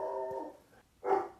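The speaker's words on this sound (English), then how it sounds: "if there's just going to be a dog in the background of this" A dog barks in the background of an indoor interview recording: a drawn-out, tonal bark, then a short pause and a second sharper bark, moderately loud and heard alone with no talk.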